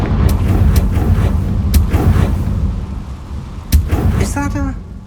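Confringo fire spell blasts in Hogwarts Legacy, several sharp loud cracks spaced across a few seconds over a rumbling game backdrop, with a voice briefly heard.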